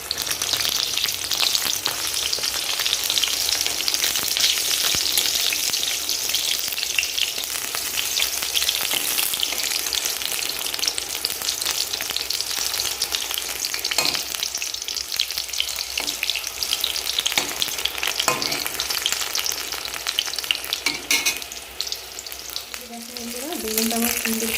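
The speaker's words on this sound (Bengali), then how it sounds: "বেগুনটা আমার সুন্দর করে লাল লাল করে ভাজা হয়ে গেছে, বেগুনটা আমার তুলে নিই।" Brinjal slices fry in a pan, giving a continuous, dense sizzle that stays loud and even for the whole stretch, with occasional faint utensil clinks and no talking.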